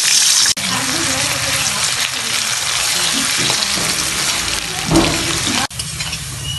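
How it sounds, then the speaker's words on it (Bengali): Potato pieces fry in oil left from frying fish heads for muri ghonto, a steady loud sizzle with some stirring, broken by a short dropout partway and a second near the end. "মাথা ভাজার তেলেই ভেজে নেব আলু"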